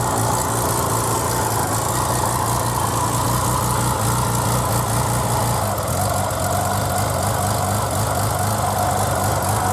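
A Norton rotary-engined motorcycle with twin SU carburettors idles steadily and loudly close by, a continuous even drone with no talk over it.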